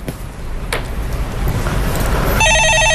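A telephone begins ringing near the end with a bright, trilling electronic bell tone after a stretch of low background rumble and a couple of faint clicks.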